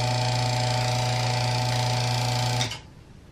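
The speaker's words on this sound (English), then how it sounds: "That tapping noise means that it's getting too much water." Steady mechanical hum with a rapid rattling tap from a DIY microwave vacuum chamber wood-drying kiln taking in too much water, running loud and constant before cutting off abruptly near the end.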